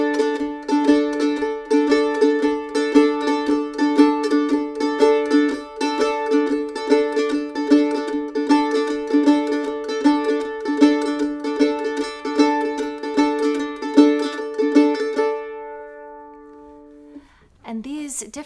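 Bluegrass mandolin played with a fast two-string pick rhythm, steady bright tremolo-like strokes with accented upstrokes, sustaining about fifteen seconds before fading, then a short string pluck.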